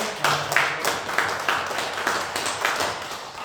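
A church congregation claps to celebrate members' birthdays, a near, lively round of many hands with irregular sharp accents rising and falling over a few seconds.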